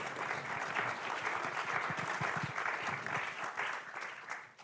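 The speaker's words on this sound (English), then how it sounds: "Let's give them a round of applause for all their contributions." Sustained audience applause fills a meeting hall at an annual general meeting, a steady, dense clapping from many hands that holds for several seconds before tapering off at the end.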